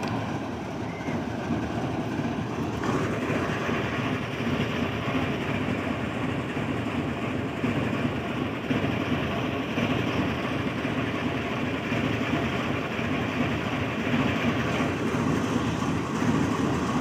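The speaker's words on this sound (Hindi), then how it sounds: "तो DKL कोल ट्रेन जो है अब सनामा से थ्रू हो गई है।" A DKL coal train hauled by GEU 40 locomotives moving through Sanama station, a steady loud rumble of diesel engines and rolling wagons with faint rhythmic clatter, continuous throughout and no voices.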